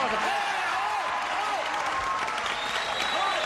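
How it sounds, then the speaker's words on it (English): A game show studio audience applauds as two contestants are introduced, continuous clapping throughout, with background music tones laid over it. "Applause."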